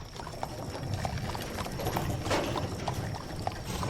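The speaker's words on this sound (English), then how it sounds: "You hear a door slam shut and a pair of horses begin to pull away." A pair of horses pulling a wagon away clop their hooves in a steady, uneven rhythm over a rumbling, rattling wagon, close and continuous.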